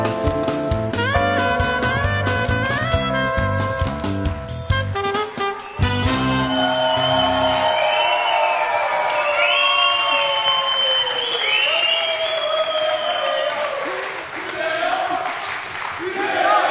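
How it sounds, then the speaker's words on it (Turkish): A Turkish game-show studio audience on Çarkıfelek applauds and cheers, the clapping rising over lively music with harmonic swells, then settling into a sustained wash of crowd noise. "Alkış."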